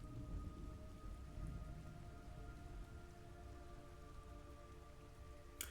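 Steady heavy rain pours with a low rumble of thunder in the video game Metal Gear Solid Delta, continuous and fairly loud throughout, with a faint tonal hum underneath and no talking.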